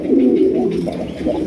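Racer pigeons coo up close in a brief burst of soft, rolling, throaty warbles that overlap continuously, with no talk.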